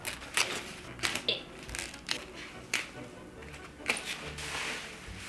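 Series of sharp, quiet snips and crisp clicks at irregular intervals as small scissors cut umbrella fabric close by, with a faint voice in the background.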